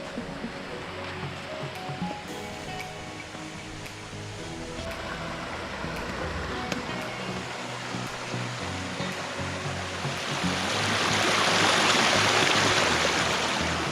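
Water rushes and splashes continuously over rocks at a stream crossing on a route near Peppara Dam, a broad steady roar that swells louder toward the end.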